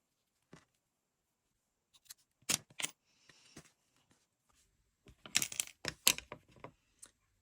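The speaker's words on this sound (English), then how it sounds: "I'm just going to cut a long tail of this and fasten that off." Scissors snipping crochet yarn while finishing a hair bow, sharp close clicks and crunching cuts in scattered bursts separated by near silence.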